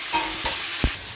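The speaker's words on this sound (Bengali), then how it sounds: "এবার এটা আমি ভাজা ভাজা করে নেবো" Potato, papaya and capsicum stir-frying with salt in a pan, with a soft steady sizzle and a few brief stirring scrapes, including one sharper clunk near the end.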